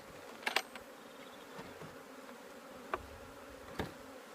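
Honey bees around an open hive during queen rearing setup, a faint buzzing under low background noise, punctuated by a few brief clicks and knocks of hive equipment.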